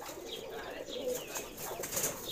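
Pigeons coo in soft, repeated throaty calls, close by and fairly steady, with faint chirps mixed in.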